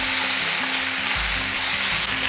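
Ginger paste and turmeric hit hot oil in a pan, producing a loud, dense, continuous sizzle that fills the whole moment, with no voices.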